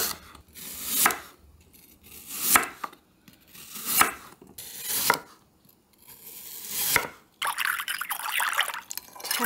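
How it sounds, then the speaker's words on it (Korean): A kitchen knife slices thin pieces of washed apple on a board, several separate crisp cuts spaced a second or so apart, followed by a stretch of wet rustling and rubbing. "사과는 얇게 썰어주세요."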